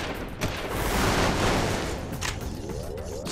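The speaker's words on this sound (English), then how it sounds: "I'm just gonna go ahead and fire." Sustained gunfire in the Jak 3 video game, a dense, continuous fusillade of shots that stays loud and close throughout with no talk over it.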